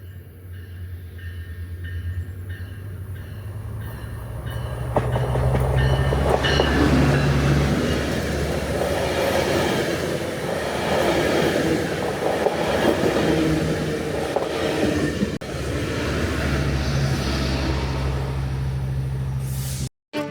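A Southern Pacific line train rolls past in Saugus, California, a loud sustained rumble of wheels and cars with brake hiss and rail clatter, building after a few seconds and holding steady before cutting off.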